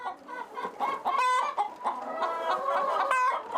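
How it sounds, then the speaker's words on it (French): Roughly a hundred laying hens on an organic egg farm cluck and cackle in overlapping bursts, close and fairly loud, with no talk. "ramasse les œufs pondus régulièrement par une centaine de poules"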